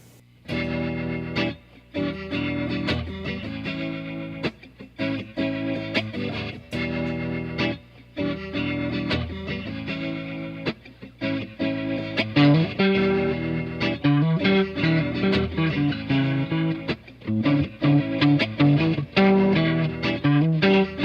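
Electric guitar played through a Keeley Monterey pedal's rotary-speaker effect imitating a spinning Leslie speaker, chords and notes pulsing with a swirling, warbling, wavering tone, loud and continuous.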